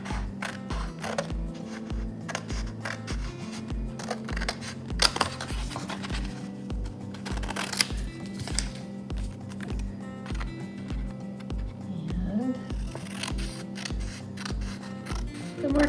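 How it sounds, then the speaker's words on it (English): Scissors snipping through a paper craft kit along printed cutting lines, quick regular clicking cuts in a steady rhythm, close up with faint room noise and no talk. "the first thing that you're going to want to do is cut along those cutting lines"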